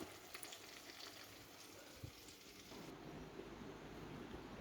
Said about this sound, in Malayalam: ഞാൻ എണ്ണ കുറേശ്ശെ ഒഴിച്ച് കുറച്ച് മീൻ വീതമാണ് വറക്കുന്നത്